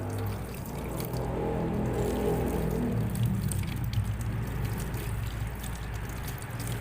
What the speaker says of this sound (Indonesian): Kemudian membilas tangan dengan air mengalir.